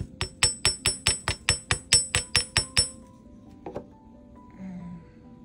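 Wire for a knot pendant hammered with about fourteen rapid, evenly spaced metallic taps on a hard surface, followed by a couple of softer clinks and a quiet pause.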